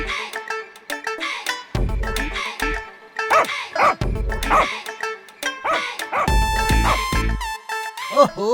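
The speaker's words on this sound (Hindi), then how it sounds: "अरे वो कुत्ते का पिल्ला क्यों चिल्ला रहा है?" A cartoon puppy yaps, barks and whimpers repeatedly at night in bursts of varied pitch, loud and close, with a musical cartoon score running beneath it.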